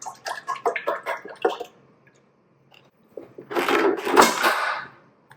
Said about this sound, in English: I'm going to pour my cream in.